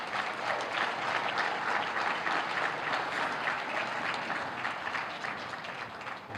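Steady, dense audience applause fills a large gathering celebrating a bill co-sponsored by the Massachusetts congressional delegation, a continuous crowd clatter holding at an even level without voices.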